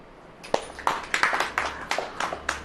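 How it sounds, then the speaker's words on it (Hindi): A congregation at a church sermon clapping in loose bursts, a series of sharp claps spreading into irregular applause for a couple of seconds, fairly near and moderately loud with no talk over it. "ताली बजाओ।"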